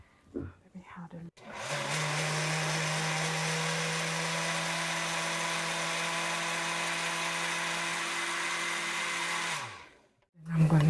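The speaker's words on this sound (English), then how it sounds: "And I'm going to blend it." An electric kitchen blender switches on and runs in a loud, steady whir for about eight seconds before cutting off, with brief talk just before and after.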